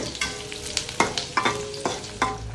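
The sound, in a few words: frying spice paste (bumbu) on stove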